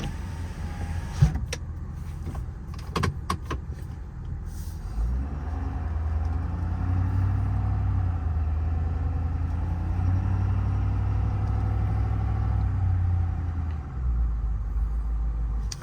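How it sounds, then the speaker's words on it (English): A 2022 Ford F550 work truck with a crane idles nearby, starting with a few sharp clicks and knocks before settling into a steady low, even rumble that runs on alone. "Turn it off for now just so you can hear the engine."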